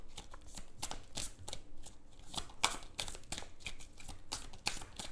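Tarot cards shuffled by hand in quick, crisp riffling bursts with brief pauses between, close and fairly quiet, with no talking.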